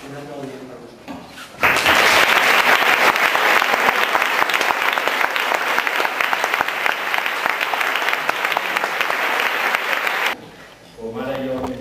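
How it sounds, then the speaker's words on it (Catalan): An audience at a talk bursts into loud, dense applause that holds steady for about nine seconds before cutting off, with a voice speaking briefly before and after. "jo vull aprofitar per demanar-vos un aplaudiment per vosaltres"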